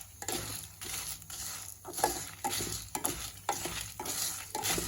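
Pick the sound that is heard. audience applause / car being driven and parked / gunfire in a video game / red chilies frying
red chilies frying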